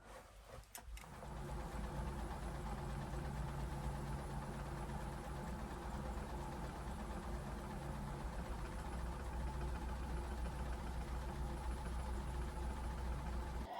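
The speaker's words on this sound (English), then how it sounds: "10 minutes on the vibrating plate done." A vibrating plate exercise machine runs steadily for about twelve seconds with a constant motorised hum and buzz, close and fairly loud, after a brief knock at the start.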